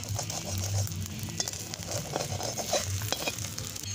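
Two eggs fry in oil in a pan over a smoky wood fire, giving a steady, close sizzle with soft scraping and stirring sounds throughout.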